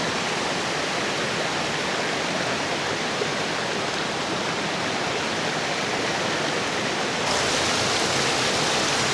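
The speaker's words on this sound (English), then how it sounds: "it's actually another waterfall that flows into it" A waterfall pours into a creek with a loud, constant, dense roar of falling water that fills the whole stretch evenly and close by, with no voices.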